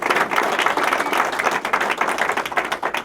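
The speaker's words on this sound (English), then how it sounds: "So let's give them a round of applause here." A crowd gives a sustained, dense round of applause for a group of university baseball players at a gathering; the clapping is loud and steady throughout, with no talking over it.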